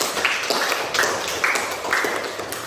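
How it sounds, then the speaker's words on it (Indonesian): Classroom applause for a student in an Indonesian mathematics lesson: a short rhythmic round of claps repeating about twice per second, light and fairly close, without talk. "Iya, untuk tepuk tangan Mbak Susi"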